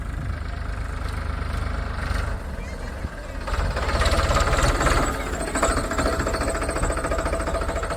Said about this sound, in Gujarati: આ બીજું ટ્રેક્ટર